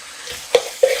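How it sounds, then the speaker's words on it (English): Ground beef stirred and browning in a pan: soft frying hiss beneath two quick, close scraping stirs near the end, no talk. "Back to the beef, make sure you stir it."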